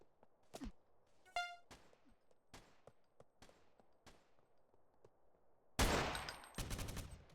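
Gunfire in the GTA SAMP roleplay video game: a few sharp isolated shots early on, then a dense rapid burst of overlapping shots near the end, loud against quiet game ambience.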